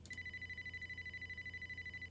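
A telephone rings in the video game Lucid Streams Amber: Journeys Beyond, a single sustained electronic tone held steady and fairly faint over a low pulsing hum.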